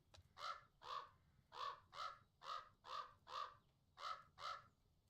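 A crow in the Pumpkin Panic video game caws repeatedly, about nine harsh evenly spaced calls in a steady rhythm, loud and close with no talk over them.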